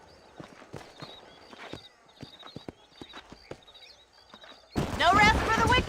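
Rhythmic hoofbeats from the video game Red Dead Redemption clip-clop steadily along, followed by a loud burst of sound at the end.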